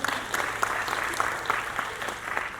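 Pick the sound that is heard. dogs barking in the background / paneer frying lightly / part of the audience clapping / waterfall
part of the audience clapping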